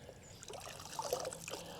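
A microfiber cooling towel soaks in a small bucket of water, giving soft, close trickling and sloshing that stays faint and continuous with no talking.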